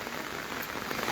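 Heavy monsoon rain pours down in Shimla during an orange alert, a dense, steady hiss of drops hitting surfaces with no voices.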